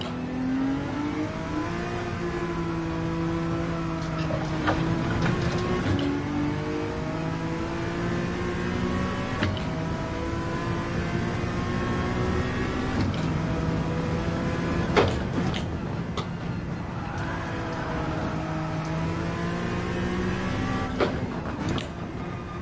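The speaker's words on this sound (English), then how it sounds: "The car right there." An engine drones steadily for over twenty seconds as a car drives, with rising and falling revs shifting through gears, occasional clunks and knocks on top, and no talking.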